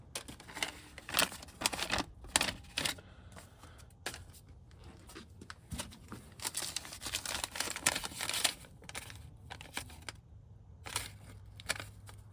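Old paper receipts, shipping labels and a bank envelope from 2003 are handled inside a deteriorated 50-year-old Ford F-250 interior, close crinkling and rustling in irregular bursts with short quiet gaps.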